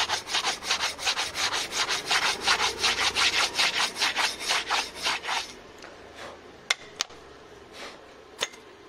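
Rapid back-and-forth rubbing scrapes on a Mahindra Bolero brake caliper, a steady run of about twenty strokes for five seconds, then fading to a few faint touches and sharp clicks.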